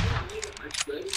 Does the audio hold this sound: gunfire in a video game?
yes